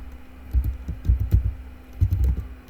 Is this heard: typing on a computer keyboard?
yes